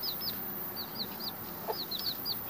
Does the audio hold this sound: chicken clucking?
yes